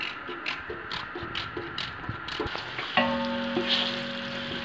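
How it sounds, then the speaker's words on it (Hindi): Onion browning in oil in a large pot for chicken daleem, a steady sizzle punctuated by light ticking stirs, then a spoon strikes the pot and leaves a ringing metallic tone. "ये अब इसमें हम डाल रहे हैं एक प्याज नॉर्मल साइज़ की। प्याज को हम करते हैं ब्राउन।"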